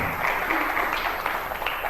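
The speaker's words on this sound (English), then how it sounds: "Give them another round of applause." An audience at a fundraiser applauds, a dense wash of many hands clapping at once that stays fairly loud and even for a couple of seconds.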